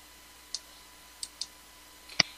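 Four sharp, quiet clicks from a computer mouse, irregularly spaced, the last one slightly louder, each standing alone against a faint, steady background hum.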